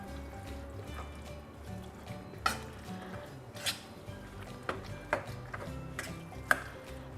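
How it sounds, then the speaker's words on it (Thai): Minced pork laab, a northern Thai dish, is mixed with fresh pig blood, making quiet, intermittent clinks and scrapes of a utensil against a bowl with a faint soft background; no speech. "เลือดหมูสดนะครับ ใส่ลงไปเลยนะครับ นี่ก็ ค่อยๆใส่ไปก่อนนะครับ แล้วก็ผสมคลุกเคล้าให้เข้ากันนะครับ"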